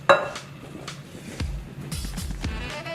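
Graham cracker crumbs and melted butter being stirred in a bowl for a Jello cake, with a utensil scraping and clinking against the dish in short, irregular strokes, close by.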